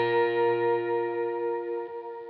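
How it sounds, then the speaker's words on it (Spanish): Electric guitar run through a TC Electronic Flashback delay pedal with the feedback turned up; sustained notes repeat and stack into a steady, ringing drone that slowly fades, with no talking. "si yo le subo un poco al feedback, el ambiente del delay lo supera"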